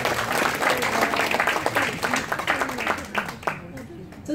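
Audience applause at a club's executive committee inauguration ceremony, steady dense clapping from a crowd lasting several seconds and thinning slightly near the end, with some voices mixed in.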